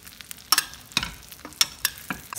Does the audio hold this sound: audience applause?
no